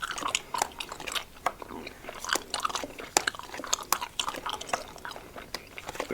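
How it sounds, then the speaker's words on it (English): Close, wet chewing of Ice Cubes Bubble Breeze gum with its blue crystals, irregular crunches and soft mouth clicks repeating steadily, intimate and near. "These little blue crystals last so long while you're chewing them, and it gives you a nice little crunch every now and again"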